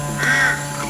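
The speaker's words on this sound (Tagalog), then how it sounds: "si Wari, isang puting uwak" An albino white Philippine Jungle Crow gives a single harsh caw, close and clear, over a steady low background hum.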